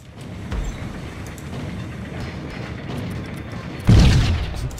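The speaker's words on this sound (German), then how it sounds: "Explosionsfolge hier." Explosion sequence in the game Max Payne: a low rumbling, crackling backdrop with a sharp thump early on, then a loud booming blast near the end that rolls off, with no talk over it.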